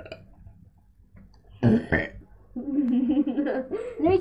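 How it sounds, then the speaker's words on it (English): A person burps during a friendly burping competition, a short loud belch close by, followed by voiced throaty sounds and laughter-like vocalizing, with people chatting quietly before it. "Let me try and burp"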